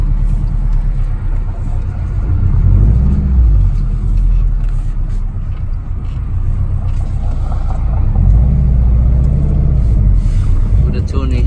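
A 2002 Subaru WRX engine during a street tune, a loud, close low rumble that swells and eases as the revs rise and fall, with people talking over it.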